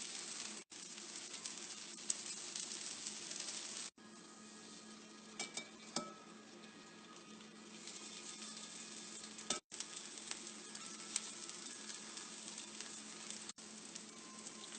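Eggplant slices fry in hot oil in a pan, giving a loud, continuous crackling sizzle with scattered pops, broken by a few abrupt short gaps.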